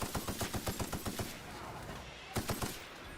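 Automatic gunfire from a weapon in The Outer Worlds, a fast steady burst of about a dozen rounds over a second and a half, then a short second burst after a pause, with no talking.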